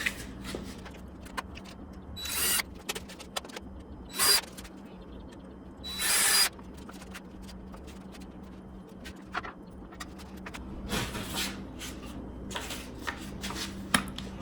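A drill bores pilot holes and drives screws into cheap construction lumber. Several short, sharp bursts of whirring come between quieter handling noises at moderate distance, with no talk.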